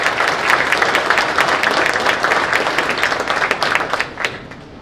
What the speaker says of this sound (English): A round of applause for you.